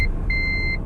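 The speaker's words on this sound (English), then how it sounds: "you hear this high-pitched beep" A vehicle's cyclist detection system sounds a high-pitched electronic beep, a brief blip followed by a longer steady tone, over the low rumble of the car's engine and road noise.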